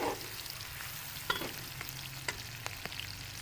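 Chopped onions fry in a pan for an aloo shalgam dish, a close, steady sizzle punctuated by a few sharp clicks of a spoon stirring.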